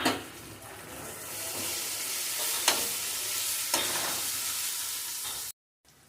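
Chilli powder and spices sizzle steadily in hot oil in a pan while a spoon stirs them, with a few sharp scrapes, loud and close, before the sound cuts out abruptly near the end.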